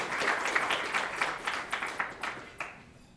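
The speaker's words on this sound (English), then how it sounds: "Now you can applaud." Audience members at an economics conference clap for a keynote speaker, scattered individual claps with a rhythmic pulse that thins and fades out toward the end.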